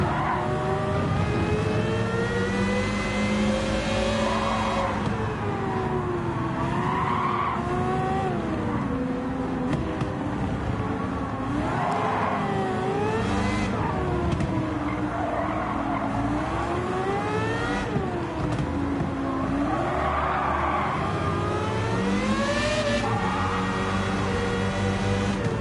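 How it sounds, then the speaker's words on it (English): A race car in the Gran Turismo driving game revs hard through repeated engine swells while its tires squeal and skid through drifting turns, loud and continuous with no talk. "This car's a lot driftier now."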